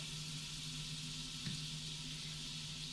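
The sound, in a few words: butter melting and sizzling in a pan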